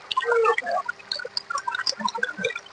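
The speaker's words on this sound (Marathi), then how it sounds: "आता किती पाऊस पडतोय" Rain falls on a farmyard with chickens and ducks, heard as scattered light drips and patters, soft and irregular, with no voices.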